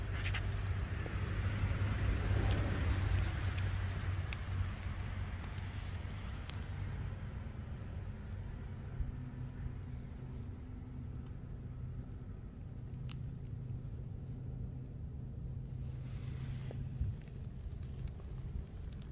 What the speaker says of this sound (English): I think the road is 121 that I'm driving on